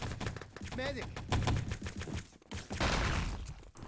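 Rapid bursts of automatic gunfire in the game Enemy Territory during a 6on6 LAN tournament match, crackling volleys close by under a fast-talking voice.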